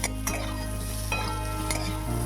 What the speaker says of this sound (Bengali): এবার আমি আমলাগুলো ভালোভাবে ভেজে নেব